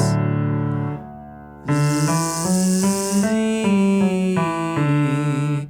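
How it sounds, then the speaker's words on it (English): A sung exercise: a sustained buzzing voiced Z glides into an open E vowel, then moves through a run of stepped pitches, loud and close. "The next one is a Z sound into an E vowel."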